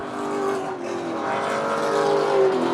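Race cars roar past on a track during a 200-lap stock car event, engines droning loud and close with rising and falling pitch as they pass one after another.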